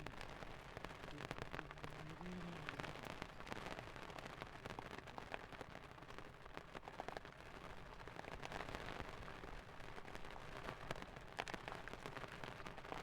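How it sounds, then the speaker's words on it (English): Dense, steady hiss of rain falling outdoors on an exposed rock climb, heavy and unbroken for the whole stretch with no voices. "the rain is pretty grim now"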